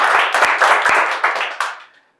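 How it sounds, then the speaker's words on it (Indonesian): Audience applause at a tenth-anniversary celebration for a company, dense, loud clapping from a crowd that fades out after about two seconds. "Tepuk tangan dong buat BSP."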